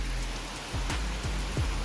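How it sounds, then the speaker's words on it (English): Steady rain falls outdoors in a hissing, broadband wash, with a few heavier drops or thumps landing nearby over a low rumble. "right now it's raining"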